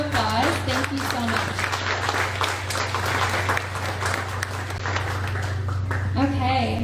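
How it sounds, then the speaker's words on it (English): Applause from a graduation audience fills the room steadily, continuing under and around voices that speak over the clapping near the start and again at the end. "Please, a round of applause."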